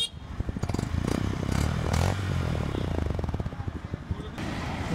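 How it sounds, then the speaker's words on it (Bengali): A new Honda 125cc motorcycle idles nearby, its exhaust giving a steady, rhythmic putter at moderate loudness, with a few clattering touches over the engine note. "এই এক্সস্টের সাউন্ডটা দেখি।"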